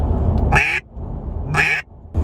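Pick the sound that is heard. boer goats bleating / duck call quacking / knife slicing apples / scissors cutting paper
duck call quacking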